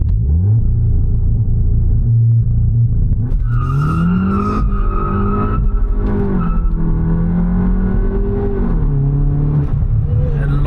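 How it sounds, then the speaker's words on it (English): Tuned Stage 1+ VW Polo GTI (267 hp, 400 Nm) doing a launch-control start with wheelspin: a low steady engine drone that bursts into a loud, close, rising rev and hard acceleration, then holds a strained pitch before easing. "So guys, let's try a launch control."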